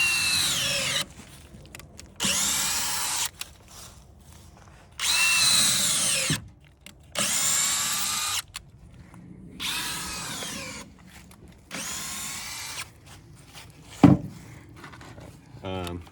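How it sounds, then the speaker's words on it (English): A power drill whirs loudly in repeated bursts of a few seconds each, with quiet pauses between, boring holes into the base of a seven-inch ash tree close by. "I'm going to drill one hole for every inch of diameter of the tree around the base of the tree"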